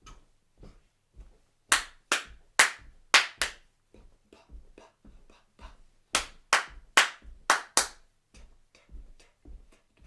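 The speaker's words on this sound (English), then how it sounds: "repeat after me the Clave claps" Hand claps in a clave rhythm during a body percussion exercise ring out sharp and loud in two groups of five, with softer marching taps between.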